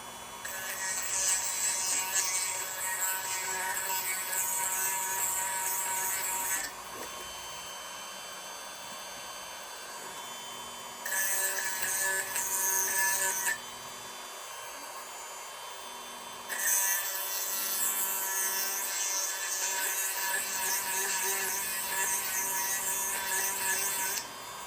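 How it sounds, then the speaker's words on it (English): A Dremel rotary tool whines steadily at high pitch while working on UV resin jewelry, running in three long bursts separated by short pauses. "Now I am going to kind of do this part with my Dremel away from my lamp where it's curing."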